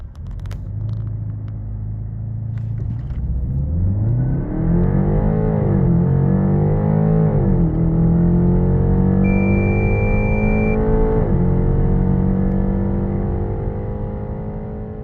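A BMW 330e xDrive Touring G21 LCI plug-in hybrid with a charged battery accelerates hard in sport mode with electric boost. The engine roar climbs steadily through the gears, loud and close inside the cabin, and a short electronic beep sounds partway through.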